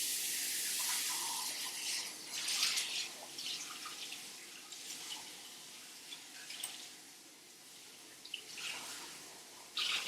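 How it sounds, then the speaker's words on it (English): Tap water splashes into and around a yogurt container as it is rinsed out at the sink during homemade yogurt making, fairly faint uneven gushes and drips that come and go. "I'm going to rinse this out real quick, Mike."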